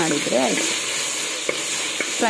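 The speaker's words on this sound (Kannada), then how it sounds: "ಇದನ್ನು ಒಂದು ಸ್ವಲ್ಪ ಟೈಮ್ ಟೊಮೆಟೊ ಸ್ಮ್ಯಾಶ್ ಆಗೋ ತನಕ ಫ್ರೈ" Tomatoes fry with onion in a hot pan, a steady broad sizzle with a few stirring scrapes and light clicks of a spoon against the metal, close and continuous with no voices.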